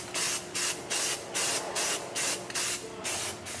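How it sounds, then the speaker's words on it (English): Paint sprays onto a car's firewall during an LS swap, a close, steady series of about eight short hissing bursts in an even rhythm, with no talking. "So I'm gonna go ahead and do the rest of the firewall"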